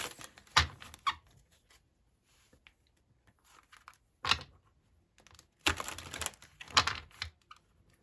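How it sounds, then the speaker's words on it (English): A tarot deck is shuffled in a few separate bursts of riffling and flapping, with quiet gaps between them. "I'll do 2 more shuffles."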